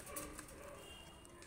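A Pakistani pigeon cooing softly nearby, a faint short coo over quiet room noise.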